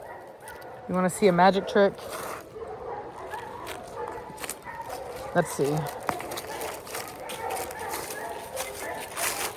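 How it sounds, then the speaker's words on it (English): Several dogs bark and yip in short bursts near a speaker, then a second cluster of barks follows, all under steady talking. "these dang dogs, hold on. I may have to yell at them."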